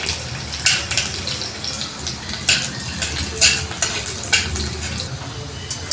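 Garlic sautéing in oil in a pan for a spicy tandaljachi leafy-vegetable dish, a steady close sizzle with periodic scraping stir strokes about once a second, no talk.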